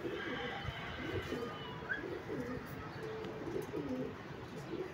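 Pigeons coo in soft, repeated low rolling calls under a steady background hiss, fairly faint and continuous throughout.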